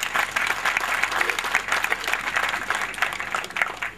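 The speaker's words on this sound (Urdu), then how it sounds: "بہت ساری تالیاں پولیس ڈپارٹمنٹ کے لیے" Audience applause at a police appreciation awards ceremony in Okara, a steady, fairly loud crowd of clapping that swells and dips slightly over a few seconds.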